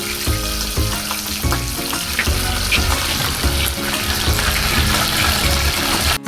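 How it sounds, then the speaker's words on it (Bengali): Pomfret fish frying in mustard oil in a hot pan, a dense, continuous loud sizzle and crackle heard up close, with no one talking. "মাছগুলো ঠিক হালকা হালকা করে ভেজে নিতে হবে"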